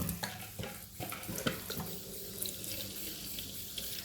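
Water gushes steadily from a tap into a container, a continuous splashing rush with a few clanks.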